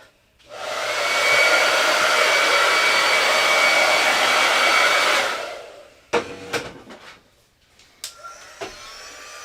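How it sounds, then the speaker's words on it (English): A hair dryer blows loud and steady for about five seconds to dry a chalk-paste silkscreen mesh transfer, then shuts off and is followed by a few sharp clatters and handling sounds. "I'm going to dry this first with the hair dryer just to get the extra dirt off."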